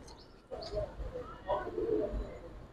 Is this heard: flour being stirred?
no